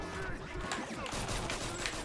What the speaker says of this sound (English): Just lots of explosions.